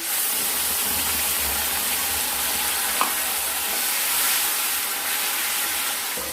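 Spice paste and tomatoes sizzle steadily in hot oil for a Bengali fish curry with lentil dumplings, a loud continuous frying hiss with soft stirring and no voices.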